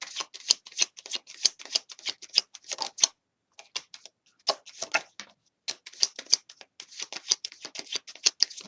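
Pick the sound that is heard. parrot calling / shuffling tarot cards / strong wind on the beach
shuffling tarot cards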